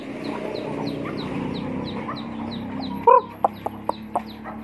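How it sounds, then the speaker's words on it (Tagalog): Backyard chickens at a rural Filipino farmhouse cluck steadily at close range, with bird chirps overhead and a few sharp louder clucks near the end; no one talks. "Yung manok natin dito."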